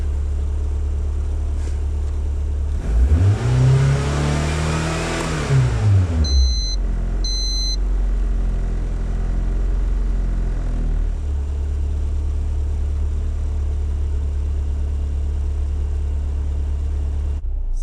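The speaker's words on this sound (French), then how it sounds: "La voiture est allumée" Car engine fitted with a ProSport AFR gauge idles, then revs hard in one rising and falling sweep before settling back to a steady close idle rumble; no voices.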